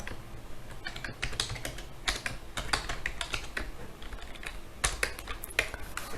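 Computer keyboard being typed on while writing C# code, a close, brisk and irregular run of key clicks lasting several seconds with no voice over it.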